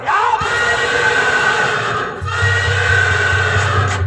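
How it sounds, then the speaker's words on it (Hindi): A horse arriving lets out a loud, close neigh, with a second whinny after a short break, against a busy outdoor crowd backdrop at a rural folk theatre performance. "वो देखो लंबरदार जी का घोड़ा आ रहा है।"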